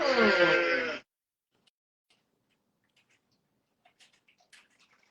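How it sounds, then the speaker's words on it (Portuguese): A recorded sheep gives one loud wavering bleat lasting about a second, then near silence with faint scattered ticks and a sharp click at the end. "É um bezerro, um carneiro, uma ovelha."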